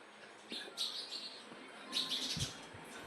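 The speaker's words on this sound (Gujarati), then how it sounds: "જો મિત્રો અહીંયા છે ને ચકલા અટાણામાં છે ને આવે સવારે," Sparrows in a quiet village in the morning give bright, scattered chirps in short bursts at moderate distance, with a soft background hush and no talking.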